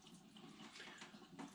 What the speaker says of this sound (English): the water's running. Cold and warm water